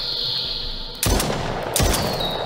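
Gunfire in a creepy survival horror game set in a sewer: two loud, close shots about three-quarters of a second apart, each with a sharp crack and rumbling tail over a steady ambient hum.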